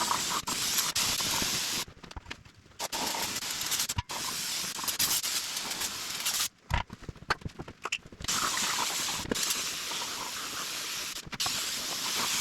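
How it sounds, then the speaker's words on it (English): An aerosol spray can hisses in bursts while painting a Dana 44 axle for a Jeep Rubicon build, with several long close sprays broken by short pauses and no talking. "put a good coat of paint on it."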